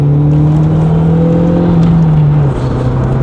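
An MG F sports car's engine hums steadily at close range, its pitch sliding as the driver eases through a gear change, the tone dipping and settling near the end.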